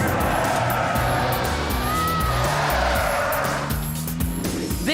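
A car's tires squeal loudly in sweeping, wavering tones as it spins during a straight-line stunt, under a roaring engine with the skid rising and falling throughout.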